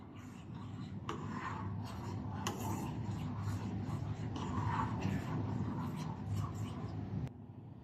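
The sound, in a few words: stirring thin cream for kunafa in a pan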